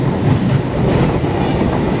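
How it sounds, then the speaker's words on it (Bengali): Dhauli Express passenger train passing close alongside a moving train near Phulgachhia on the Shalimar–Puri route, a steady loud rumble of rolling wheels and carriages with faint clickety-clack throughout. "যাচ্ছে আমাদের পাশ দিয়ে, ধৌলি এক্সপ্রেস।"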